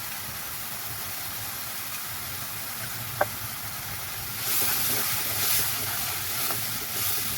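Onion and chili fry in a hot pan with a steady sizzling hiss that grows louder partway through, broken by one sharp clink of a utensil.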